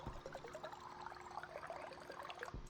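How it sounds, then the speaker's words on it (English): Water bottle filling up in the video game Stationeers, a soft continuous pouring trickle with a faint steady tone, quiet and close, ending with a brief louder knock. "Water bottle filling up"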